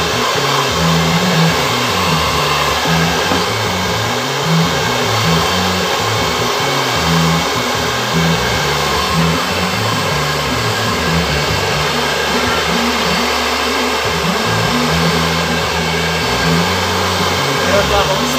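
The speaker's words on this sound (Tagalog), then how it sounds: "Mas maganda na ginagamitan po natin ang blower." A hair blower used to dry and clean barber's hair-cutting tools roars steadily at close range for the whole stretch, a continuous loud airflow hum with slight wavering, no one talking over it.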